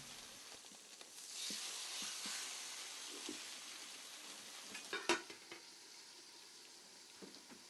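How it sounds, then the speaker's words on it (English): Fish frying in oil in a preheated skillet with its cover slightly ajar, giving a steady moderate sizzle with a few sharp pops and spatters near the middle, no voices. "place the fish in the skillet with the cover slightly ajar to prevent splattering"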